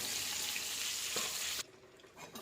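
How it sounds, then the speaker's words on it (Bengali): Snakehead fish fries in a pan of oil, a dense close sizzle that drops off sharply partway through, leaving faint crackles and stirring. "এরকম আমার মাছটা এখনো ভাজা হয়নি, মাছটা আর একটু পর আমি তুলে নেব।"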